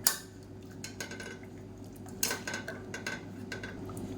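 Cooked lentils for soup are mashed in a pot with a masher, giving intermittent metallic clinks and soft squelching taps in a quiet kitchen.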